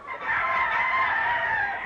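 Roosters kept for fighting crow on a rural mountain farm, a steady, fairly close call with layered crowing that carries on for nearly two seconds, with no talk.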